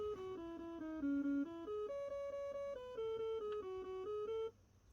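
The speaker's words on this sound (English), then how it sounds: "Don't you love that beepy tune?" Beepy square-wave melody from the ZX Spectrum game Chuckie Egg, a bouncing run of short stepped notes in a steady rhythm, clear and alone, stopping abruptly near the end.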